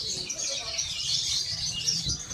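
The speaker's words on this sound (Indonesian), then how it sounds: "Ini burung-burung yang dijual" Caged birds such as doves, ornamental pigeons and parakeets at a market stall in Solo, giving a dense, steady wash of high chirping and twittering with low crowd murmur beneath.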